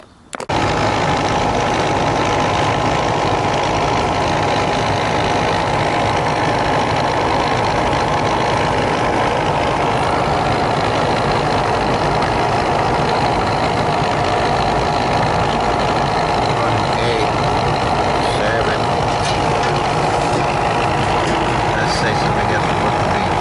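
An air conditioning compressor runs steadily, a loud, continuous mechanical hum and rattle that holds unchanged from start to finish.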